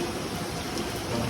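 Rain falling steadily in a continuous dense wash of hiss, loud and unbroken, with no talk.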